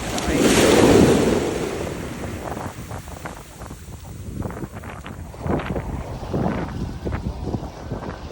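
Atlantic surf at Crystal Crescent beach, a wave breaking close with a heavy wash, then rolling foam and irregular splashes, with gusty wind buffeting the microphone throughout.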